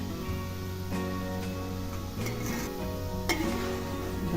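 Shev, the fried gram-flour strands used for shev laddoos, is stirred in hot oil in a pan. Steady sizzling runs under close scraping and light clinks of metal against the pan, with no voices.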